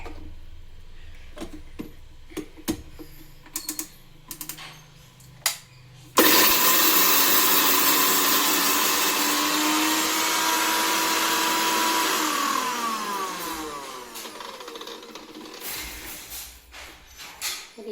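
A mixer grinder runs loud and steady for about six seconds, grinding cumin, fennel and curry leaves for masala vada, then cuts off, with scattered kitchen clatter before and after.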